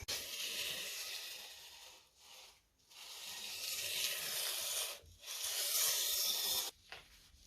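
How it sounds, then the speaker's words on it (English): Hand sanding a machined CNC gantry base plate for a 6040 router with finer sandpaper, a steady close scraping rub in long strokes broken by a few brief pauses. "so I will try and go over it with a finer sandpaper"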